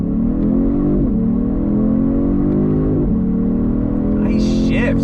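A 2022 Genesis G70 sport sedan accelerates hard from a dead stop using paddle shifters, its engine rising steadily in pitch with quick gear changes about every two seconds, loud and close from inside the cabin.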